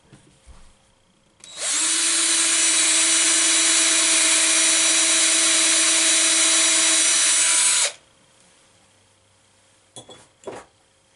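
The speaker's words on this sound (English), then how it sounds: "just put some tape on your drill bit at the maximum depth and don't drill past it" A power drill bores a hole in pinball machine wood, a loud, steady whine running for about six seconds at close range before stopping, followed by a couple of faint clicks.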